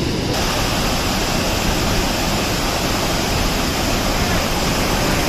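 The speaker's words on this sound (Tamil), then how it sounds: "பவானி ஆற்றில் வெள்ளம் கரை உருண்டோடுவதால்" Floodwater from the Bhavani river rushes past its banks in a loud, unbroken roar that stays close and steady throughout, with no speech heard over it.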